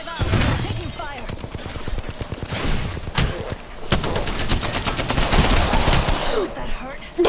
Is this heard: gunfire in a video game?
yes